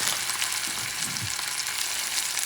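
Fresh tuna sears in a hot pan with a loud, close, steady hiss of frying that fills the whole moment without pause.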